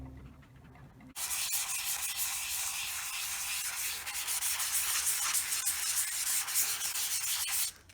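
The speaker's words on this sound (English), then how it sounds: "that's with the 220, about 10 minutes worth of sanding." Steady, close rasping of 220-grit sandpaper rubbed back and forth on an ATV dash, starting abruptly and continuing for several seconds before stopping.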